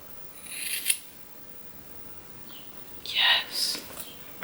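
Scissors snip through wig hair on a lace front wig, two brief crisp bursts of cutting near 0.9 s and again around 3.2–3.8 s, close and fairly quiet against a soft background.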